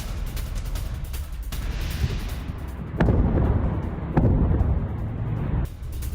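Deep, rumbling blasts from airstrikes roll out over a constant low roar, with two sharper booms standing out midway, heavy and distant-sounding.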